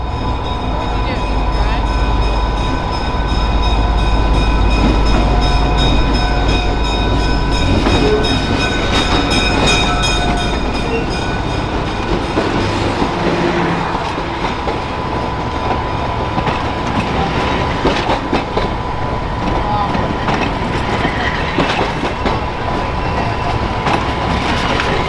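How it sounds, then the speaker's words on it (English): The Nebraska Zephyr, a diesel streamliner, pulls away from a depot at a railway museum, its engine droning loudly and steadily with rolling wheel clatter throughout and some faint talk in the background. "Our final catch of the weekend would be the Nebraska Zephyr departing from the East Union Depot."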